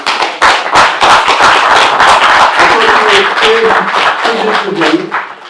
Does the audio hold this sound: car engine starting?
no